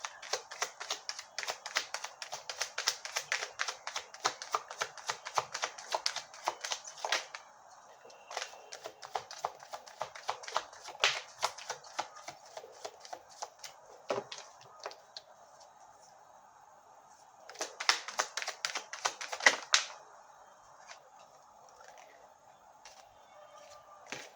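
Tarot cards are shuffled and drawn in bursts of rapid, crisp riffling clicks, close by, separated by quieter pauses with a few isolated card flicks.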